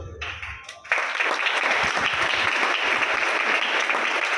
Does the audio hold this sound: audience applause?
yes